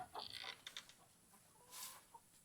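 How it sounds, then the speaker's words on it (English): Chickens cluck softly nearby in short bursts, a few quiet calls in an otherwise hushed space. "Oh, look, we got chickens already."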